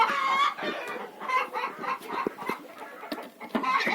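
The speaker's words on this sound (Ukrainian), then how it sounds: "це в мене такі курочки хорошенькі, вже несуться" Hens in a backyard coop on a Ukrainian village farm, laying eggs, cluck repeatedly in short overlapping bursts, close and fairly loud, with a few sharper calls mixed in and no talking.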